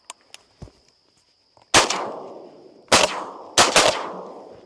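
Three loud shotgun blasts ring out at teal ducks during an opening-day hunt in Nebraska, each one sharp and close with a decaying echo. A few faint clicks come before them over a steady high background hum.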